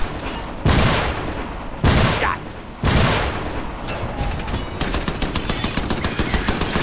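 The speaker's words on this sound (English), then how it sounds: "machine guns go rawr" Turret machine guns firing in the video game Trenched: several loud, close booming bursts land about a second apart, followed by a rapid, steady rattle of automatic fire.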